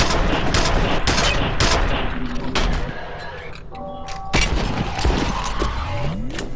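Grenade explosions in F.E.A.R., several sharp, loud blasts spread across the stretch amid gunfire-like crackle, with a quieter lull in the middle before another heavy burst.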